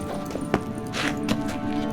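Hooves of the horse Kelpie in The Witcher III, a few close clip-clop steps over a low game ambience.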